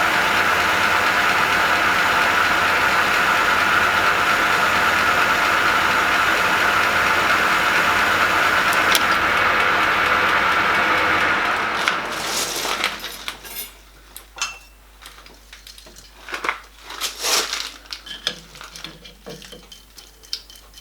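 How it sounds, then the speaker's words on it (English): A metal lathe takes a spring cut on a large stub ACME thread with a loud, steady machining roar for about twelve seconds. The roar then winds down, followed by scattered metallic clinks and knocks. "Taking a spring cut to get a size on diameter."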